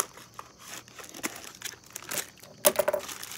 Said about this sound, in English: I'm gonna use scissors.